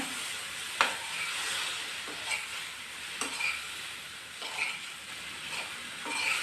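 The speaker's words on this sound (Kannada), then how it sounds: "ಈಗ ಬೇಯಿಸ್ಕೊಂಡಿರೋ ಕಾಯಿ ಹಾಕ್ತಾಯಿದ್ದೀನಿ ಮಿಕ್ಸ್ ಮಾಡ್ಕೊಳ್ಳೋಣ" Cooked snake gourd being stirred into a palya in a pan, with soft steady sizzling and a few scraping strokes of the spatula, close and fairly quiet, with no talking.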